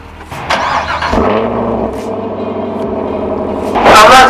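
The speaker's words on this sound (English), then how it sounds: "let us start the vehicle" A Chevrolet Camaro SS 1LE V8 cranks and fires close by, settling into a loud, even idle before a sharp rev blips at the end; no one speaks.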